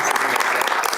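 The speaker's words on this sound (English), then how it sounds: "last big round of applause for Ms. O'Neill, Mr. Cheney, and the entire" A brief, loud burst of applause from attendees at a school board special meeting, many hands clapping in a dense, even wash close by.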